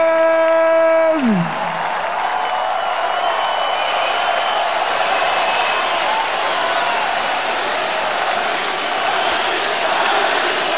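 A sellout arena crowd at the Pacquiao vs Rios boxing match roars and cheers in a dense, sustained wash of noise, following the end of a sung note that slides away at the start.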